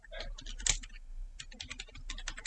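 Quick, quiet keystrokes on a computer keyboard, a light irregular patter of clicks heard close up in a still room.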